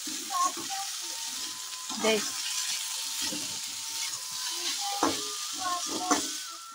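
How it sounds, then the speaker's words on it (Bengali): Potatoes frying in a home kitchen pan with onion and chili, giving a steady close sizzle with intermittent stirring scrapes and clinks throughout. "দেখো আলু ভাজা করে নিচ্ছি"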